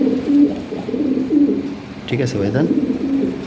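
Lahori pigeons of an imported European bloodline coo in low, repeated throaty phrases close by, heard under a voice speaking in Bengali.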